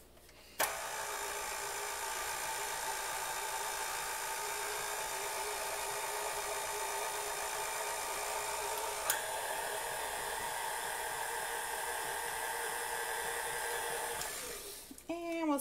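An electric mixer beats chocolate chip cookie dough in a bowl after the dry ingredients go in, giving a steady, loud motor whir that runs unbroken for about fourteen seconds with no talk.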